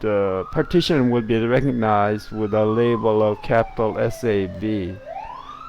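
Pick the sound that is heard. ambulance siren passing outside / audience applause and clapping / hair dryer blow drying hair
ambulance siren passing outside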